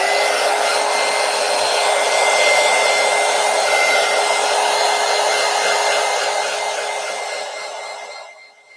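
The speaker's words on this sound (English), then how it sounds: "let me hit it with the heat gun real quick." A heat gun blows steadily on a collage journal page, a loud, even, close whooshing roar that holds for about seven seconds before tapering off.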